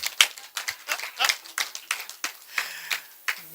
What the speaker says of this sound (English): Two, clap for the MC.